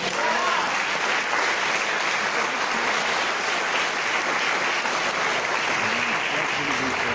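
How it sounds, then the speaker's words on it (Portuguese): Church congregation applause during a worship service, a dense, continuous wash of clapping from many hands, steady and moderately loud throughout. "dê um aplauso ao Senhor"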